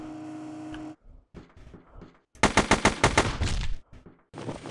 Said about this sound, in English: In the future, cardboard boxes will make metal tinging sounds when you shoot them.